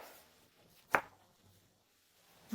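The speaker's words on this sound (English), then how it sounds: "Take a large eggplant and cut it into slices." One knife cut through a large eggplant, a single quiet crisp slice meeting the board, close up in an otherwise near-silent kitchen.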